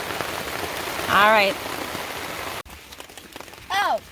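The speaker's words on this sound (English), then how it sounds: "But instead we're sitting here in the rain." Steady rain drums on a tarp sheltering hikers on the Appalachian Trail in Maine, a close, constant patter throughout, with brief bits of talk and short whistle-like sounds over it.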